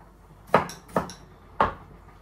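A knife cuts a sweet pineapple into small pieces on a board: three sharp, close chops spaced unevenly, with no voices.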